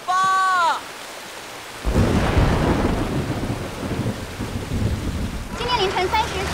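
A deep rumble of thunder rolls through heavy rain pouring steadily, loud and close, as a strong overnight rainstorm hits a county town. A short whistling tone is heard at the start and faint voices come near the end.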